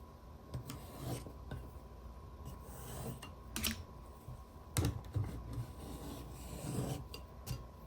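A watercolor pencil sketches light circles on paper in faint, dry scratching strokes that come in uneven bursts, very quiet and close, with no talk.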